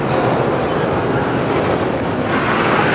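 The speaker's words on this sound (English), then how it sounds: "Oh, come on, train." A CSX freight train rolls steadily over a road crossing at close range, a loud continuous rumble with rattling wagons and faint wheel clatter, no voices over it.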